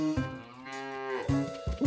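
Cartoon cows moo in a long, drawn-out low call followed by shorter lowing bursts, clear and close, with no voices.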